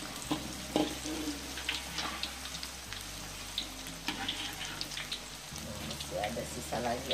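Corn and shrimp fritters fry in hot oil with a steady, rain-like sizzle and crackle throughout, and a low background hum runs beneath it.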